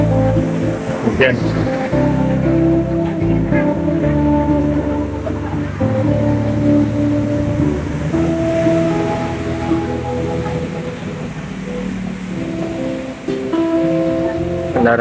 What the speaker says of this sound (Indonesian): Kendaraan ramai ya